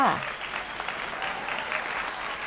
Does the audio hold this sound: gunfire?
no